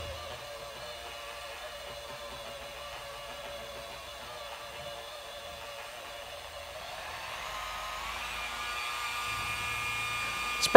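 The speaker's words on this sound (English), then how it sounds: "Spread out the product, start up the polisher, head to the third speed setting" A rotary polisher fitted with a lamb's wool pad hums faintly, then rises in pitch and volume from about seven seconds as it spins up to a higher speed.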